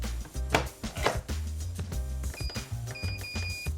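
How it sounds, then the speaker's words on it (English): Lid of a pressure cooker full of chili being fitted and twisted to lock, several close clunks and metallic clicks, then a rattling scrape as it turns into place, over faint background music. "Let's get that lid on and get it cooking."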